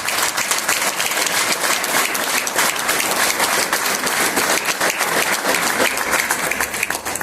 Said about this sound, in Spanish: Yo empezaría por aplaudir la película